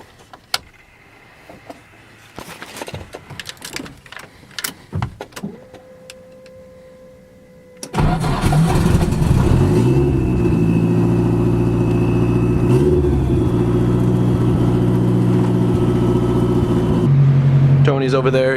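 Quiet shop clatter with scattered clicks and knocks gives way to a car engine firing up and settling into a loud, steady idle with rising revs as it rolls into the garage, with voices speaking under it.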